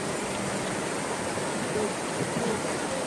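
Continuous rushing of a river current, a broad, even wash of flowing water with no pauses.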